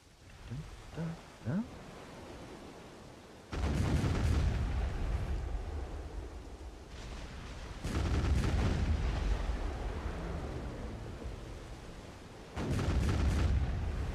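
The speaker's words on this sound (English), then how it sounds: "these cannons feel so fast compared to the Volante" Ship cannons in the Black Desert video game fire in three loud, sustained volleys, each a dense rumbling burst lasting a few seconds, separated by brief quieter gaps and opening with a few faint knocks.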